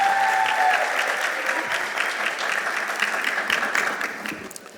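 A graduation ceremony audience applauds school board members with a thick wash of clapping that starts strong and gradually thins and fades toward the end, a voice faintly audible early on.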